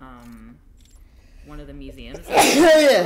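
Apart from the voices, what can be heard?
sneeze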